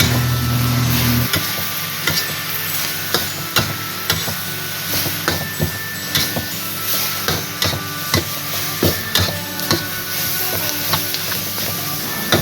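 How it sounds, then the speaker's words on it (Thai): Chinese cabbage with minced pork stir-fried over high heat: a steady, close sizzle broken by a quick, uneven run of spatula clanks and scrapes against the pan, with no talking. "เราใช้ไฟแรงในการผัดนะคะ และผัดผักให้สุกอย่างรวดเร็วค่ะ"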